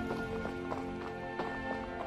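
A horse's hooves clip-clop in a steady trotting rhythm in the VR game Skyrim, the regular muffled hoof beats sounding over a constant low ambient drone.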